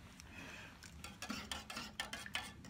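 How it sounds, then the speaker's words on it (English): A spoon stirs coffee in a cup over a Solo Stove at a trail shelter, making a run of quiet metallic clinks and scrapes that grow more rhythmic toward the end, with no speech. "I'm going to stir this little baby up"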